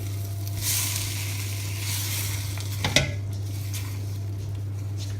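Garlic sizzles steadily in a pan as it cooks slowly for a chicken jalfrezi, with a spoon stirring and scraping against the metal and one sharper clink near the middle.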